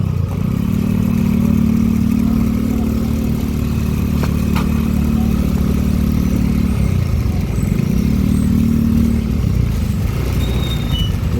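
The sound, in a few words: motorcycle engine passing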